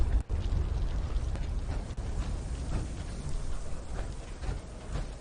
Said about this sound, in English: He gonna blow. He blew. Kaboom.